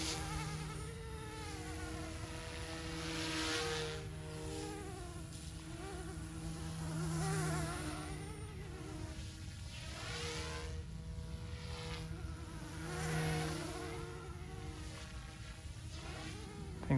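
An OMPHOBBY M2 Explore RC helicopter flies at steady power, its high insect-like rotor and motor whine rising and falling in repeated swells as it maneuvers, with no voices over it.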